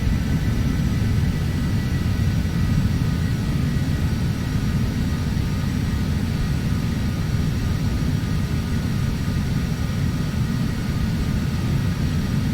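A Phenom 300 jet taxis in the Prepar3d v4.5 flight simulator, its engines a loud, constant droning whine with a steady low rumble throughout, no voices.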